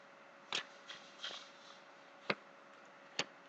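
A tarot card deck being cut and handled gives a few faint, sparse taps and brief papery riffles, spaced irregularly in a quiet room.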